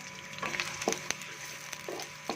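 Onions frying in a cup of oil in a kadai while being browned for aloo gobi, a steady close sizzle broken by a few sharp scraping stirs.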